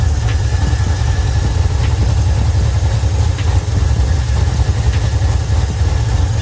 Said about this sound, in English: it kind of sounds like this thing's got a slight misfire to it.